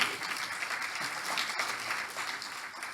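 Conference audience clapping continuously, a dense, steady wash of many hands throughout with no speech over it.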